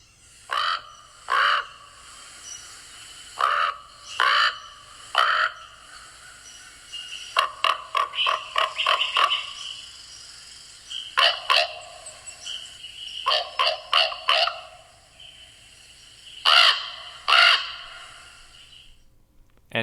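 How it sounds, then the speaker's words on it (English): A common raven gives repeated croaks, some single and some in quick clustered bursts, fairly close and loud against a quiet background, with no talking. "So here is your common raven."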